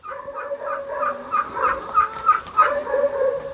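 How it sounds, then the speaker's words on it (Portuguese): Farmyard poultry call out loudly and close by in an almost nonstop babble of clucks and warbling cries, with no speech over them. "Tem muita galinha, nossa."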